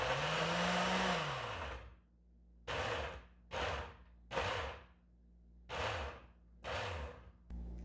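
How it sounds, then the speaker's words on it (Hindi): An electric chopper whirs through onion, ginger, garlic and green chillies, first in one long run that winds down, then in six short, sharp pulses separated by brief silences. "हमने चॉपर में प्याज, अदरक, लहसुन और हरी मिर्चें डाल दी हैं। अब हम चॉप कर रहे हैं।"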